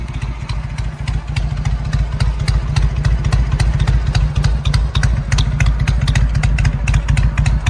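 A vintage Harley-Davidson Electra Glide touring motorcycle engine idles steadily up close, a loud continuous low rumble with a rapid, even thumping beat and light mechanical clatter throughout, with no voices.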